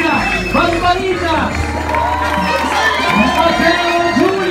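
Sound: audience applause and cheering

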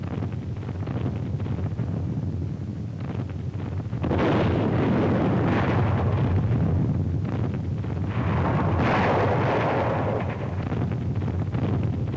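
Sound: naval bombardment artillery explosions

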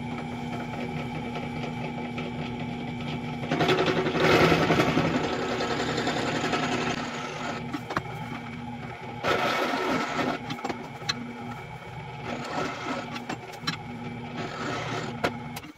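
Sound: drilling hinge loops out to 5/8 inch

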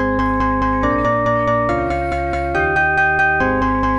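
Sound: Beepbox glockenspiel melody

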